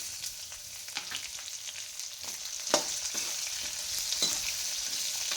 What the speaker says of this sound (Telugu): జీలకర్ర మరి గాలించి ఉల్లిపాయ వేసుకున్నాం